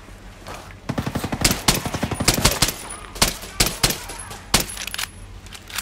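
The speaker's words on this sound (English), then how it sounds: "Wonder if that gunfire alerted the rest of the guys ahead" Gunfire in the video game Ghost Recon, set on Erewhon, loud and close, comes in rapid bursts of sharp shots separated by brief pauses.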